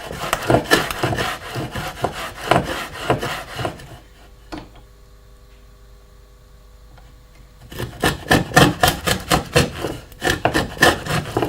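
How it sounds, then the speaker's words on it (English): A hand router plane cutting a wooden housing down to a gauge line, rapid rhythmic rasping strokes close up, a quiet pause of a few seconds, then another run of scraping cuts. "So we use a router for that, and we set the router up down to the gauge line exactly"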